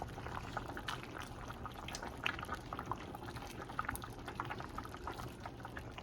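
Cabbage and carrot cook in a pot of boiling water, a steady bubbling and sputtering with scattered pops and drips, moderately close and continuous throughout with no voices.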